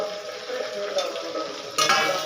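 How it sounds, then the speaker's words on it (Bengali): Slit green chilies frying in a pan give a soft, steady sizzle with light stirring scrapes, fairly quiet, growing brighter near the end. "আবারও একটু ভেজে নেব।"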